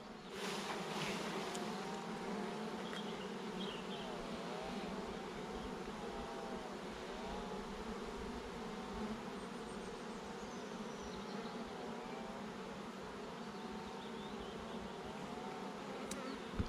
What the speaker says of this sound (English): So I can shake off some bees from this frame